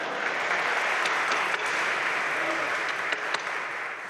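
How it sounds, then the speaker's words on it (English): Audience applause at a college convocation talk, right after a card flourish during a math-themed shuffle demonstration; a dense, steady wash of clapping fills the hall for about four seconds with no one speaking. "Let's give Nee a hand"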